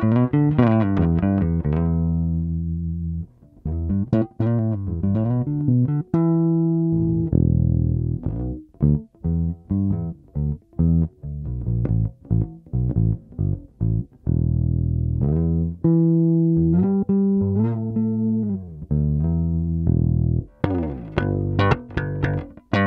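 Fender JMJ Mustang short scale bass guitar with its tone control turned down, playing a solo line of deep, rounded, muted notes and plucked phrases, close and clear, with no talking.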